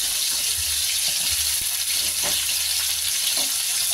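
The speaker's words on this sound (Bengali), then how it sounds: "টমেটোটা নরম হয়ে গেছে, এবার আমি এর মধ্যে শিমগুলো দেবো।" Beans going into a pan of oil with softened tomatoes fry with a steady, close, broadband sizzle throughout, with a few soft stirring scrapes and no voices.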